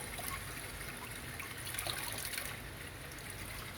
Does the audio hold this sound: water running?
yes